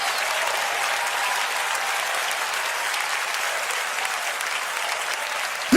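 A large church congregation claps its hands in praise during Bishop Charles E. Blake Sr.'s sermon, a sustained, even roar of many hands lasting several seconds with no speech over it.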